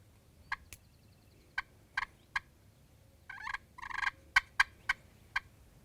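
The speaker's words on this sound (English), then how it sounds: "as it gets light, there's quite a few birds gobbling" Wild turkeys gobbling at first light from cover at a field edge, a string of loud, bursting gobbles from several birds spread across a few seconds, some overlapping, with quiet background between calls.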